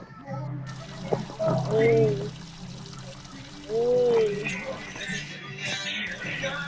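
Water from a shower in the Roblox video game runs as a steady hiss, with a young voice making rising, sing-song vocal sounds over it.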